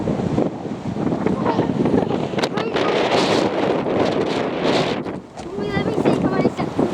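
Strong gusts buffet the microphone in a continuous roar, briefly easing before surging again, loud and close, on a very windy day at Duxford.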